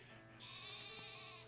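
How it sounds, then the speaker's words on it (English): The sheep-like Wooloo creature from the video game Pokémon Sword gives a single soft, drawn-out bleat with a wavering tone, quiet over a steady game background. "And there's a sheep. Or Wooloo."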